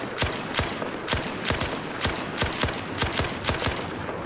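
Tap firing of a gun in the video game Battlefield 4, about a dozen sharp single shots spaced evenly at roughly three per second, loud and close with no talk over them.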